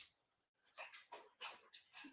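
A dog whimpers in a string of five or six short, high whines and squeaks, fairly faint and close indoors, with no talking over them.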